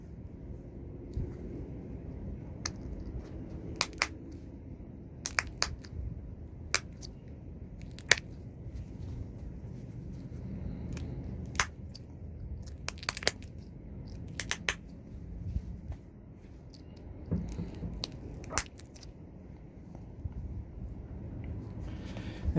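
Flint is pressure flaked by hand into a Shumla point, giving sharp, scattered clicks and snaps over a steady low rumble of background noise.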